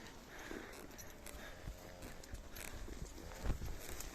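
Horses walk along a mountain trail through a narrow gorge, their hooves clip-clopping in an uneven rhythm at close range, with one sharper strike near the end over a low outdoor background.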